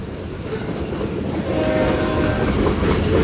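A long freight train of hopper cars rolls past a road crossing close by, a loud steady rumble with rhythmic wheel clatter that builds slightly as the cars go by, with a faint horn tone.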